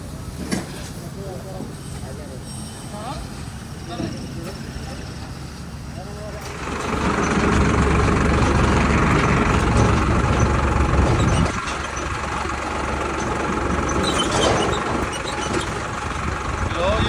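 A diesel tractor engine idles nearby, then revs louder and rumbles steadily, dropping back briefly before continuing to chug.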